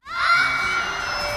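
A girl screams loudly into her gaming headset at a tournament match, one sustained high-pitched shriek that rises sharply and holds for over a second, close and harsh, with no speech around it.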